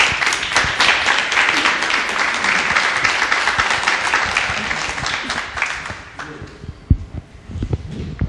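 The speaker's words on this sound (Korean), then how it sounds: "박수 부탁드립니다" Audience applause at a Korean talk event as a guest is welcomed to the stage: sustained dense clapping for about six seconds, then tapering into scattered claps.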